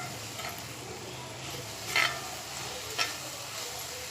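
Soft sizzle and scraping as eggplant and broad bean curry is stirred in a pot, with two brief louder clinks of the spoon against the pot over a low bubbling background.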